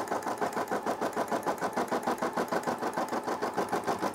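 A Brother SE600 embroidery machine stitches around a bag design with a fast, even, close mechanical chatter of repeating needle strokes, steady throughout with no voices.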